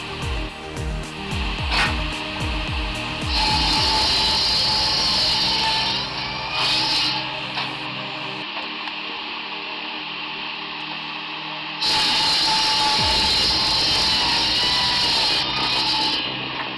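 Large firewood processing machine with a long wedge splitter working through massive logs, a loud mechanical whine that cuts in and out in long bursts over a constant motor hum, with scattered knocks and rattles.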